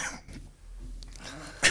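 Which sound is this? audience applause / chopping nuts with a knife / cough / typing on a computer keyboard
cough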